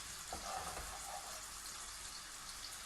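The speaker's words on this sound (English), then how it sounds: "just cook down this bacon a bit" Bacon cooking down in a pan for pasta carbonara, giving a faint, soft sizzle with a few light stirring clicks near the start; quiet and steady, with no talking.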